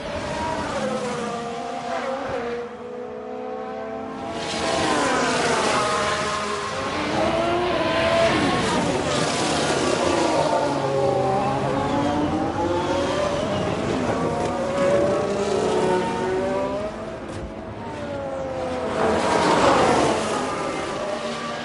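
A Ferrari Formula 1 race car engine in the F1 Manager 22 video game screams loudly and continuously, its pitch climbing and falling through gear shifts, with two brief lulls where the revs drop before surging again.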